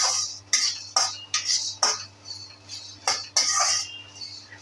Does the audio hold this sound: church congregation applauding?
no